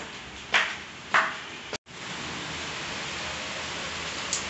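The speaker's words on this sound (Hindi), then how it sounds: "वाह, यहाँ पे तो बारिश हो रही है" Rain falls steadily over a rooftop in Siwan, Bihar, a continuous broadband hiss, broken by two short louder bursts and a brief dropout.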